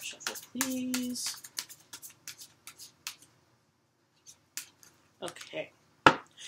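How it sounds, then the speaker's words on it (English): A deck of tarot cards is shuffled close by in quick, crisp bursts of riffling and flicking that stop and start. Quiet pauses and a brief murmured voice come between the bursts. "And one more shuffle, please."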